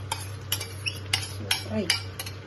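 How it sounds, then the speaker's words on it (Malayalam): Okra goes into a coconut milk curry and is stirred, a metal spoon knocking against the pot in a loose series of clear clinks over a low steady hum. "ഇതിലേക്ക് നമുക്ക് വെണ്ടക്ക ഇട്ട് കൊടുക്കാം"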